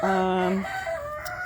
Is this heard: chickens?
yes